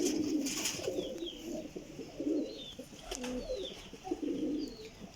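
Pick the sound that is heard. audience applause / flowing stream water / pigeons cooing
pigeons cooing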